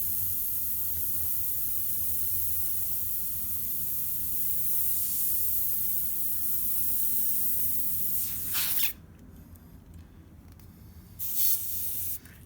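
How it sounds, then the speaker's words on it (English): Close, continuous hiss of an airbrush spraying makeup, broad and steady for several seconds, then cutting off, with one more short burst of spray afterward. "my airbrush is going to need a little attention"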